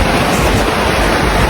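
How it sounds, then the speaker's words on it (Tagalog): Surf washing onto the shore at Boracay beach, a steady broadband roar of breaking sea waves with some wind noise, continuous and fairly loud with no talking. "Wow, grabe. Ang dagat."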